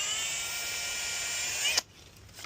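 A small power driver screws fittings into a micro irrigation system, giving a steady high-pitched motor whine for almost two seconds before it stops abruptly, with a few faint clicks after.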